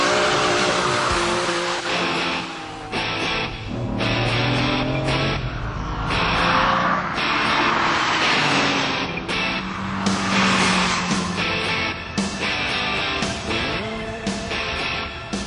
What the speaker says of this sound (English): demonstrate just how fast the Diablo accelerates